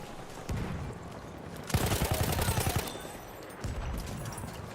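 Gunfire in the video game Battlefield 1 crackles in rapid bursts, with one dense, loud volley in the middle between lighter stretches of shooting and background battle noise.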